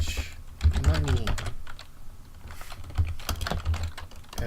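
Typing on a computer keyboard, a close run of irregular key clicks in quick bursts with short gaps, a voice speaking briefly in the middle.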